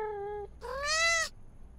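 Two cartoon cat meows, the first short and steady, the second longer and rising then falling, both clear and close with no talk.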